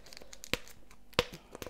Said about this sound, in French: je vais retirer l'étiquette